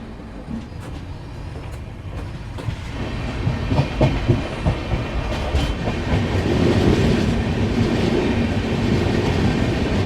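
Aboard a train running from Kolkata towards Digha, a deep rolling rumble builds steadily while wheels click over rail joints in an uneven rhythm, loud and enveloping, with no voices.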